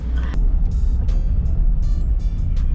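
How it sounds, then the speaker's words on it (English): A big water truck on a road in Jamaica passes close by with a loud, steady low engine rumble and road noise, continuous for a few seconds. "The big water truck coming up, we have space."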